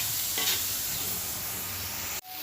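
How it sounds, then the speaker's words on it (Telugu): Sesame seeds and spices dry-roasting in a pan with no oil give a steady, dense rustling hiss with a brief stirring scrape early on, then cut off abruptly near the end. "అవి మంచిగా బ్లాక్ కలర్లోకి ఫ్రై అవ్వాలి వితౌట్ ఆయిల్"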